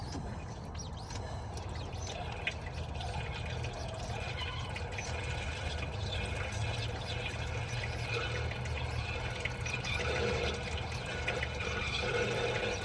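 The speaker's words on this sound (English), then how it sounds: "And you can see that we're getting more coolant out." Coolant drains from the cooling system of a 2021 Dodge Challenger 5.7L Hemi during a water pump and thermostat replacement, a steady, continuous trickling stream heard up close for the whole stretch.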